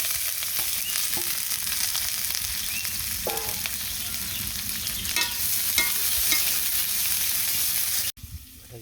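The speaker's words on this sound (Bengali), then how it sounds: "জাল ঢেকে গেছে তেল দিয়ে দিলাম এখন দিয়ে দিব পিঁয়াজ মরিচ" Onion and chili frying in hot oil give a steady, close, crackling sizzle that runs evenly throughout before cutting off abruptly near the end.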